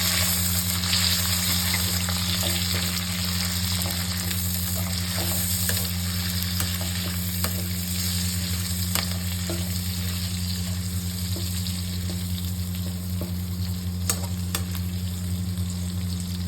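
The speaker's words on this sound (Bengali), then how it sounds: "এগুলোকে নেড়ে চড়ে নেবো।" Chili chicken frying in a pan, stirred steadily through a loud, continuous sizzle with a constant low hum beneath it and occasional scraping clicks, close and with no one talking.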